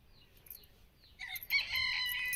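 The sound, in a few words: rooster crowing, chickens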